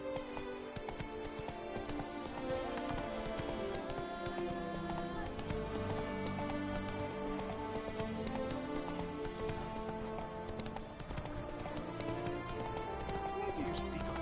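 Roach the horse gallops with rapid, rhythmic hoofbeats in The Witcher 3 video game, loud and close, over game music with light rain, while someone speaks over it.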